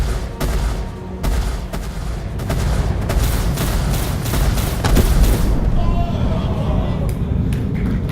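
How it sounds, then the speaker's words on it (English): Turret gunfire in the space game Star Citizen, rapid booming bursts and heavy blasts that continue loud and steady, with people talking over them. "Some nice shooting."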